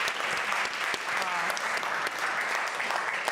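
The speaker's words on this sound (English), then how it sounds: "give them a round of applause" Sustained applause from an audience, dense clapping throughout, fairly close and steady.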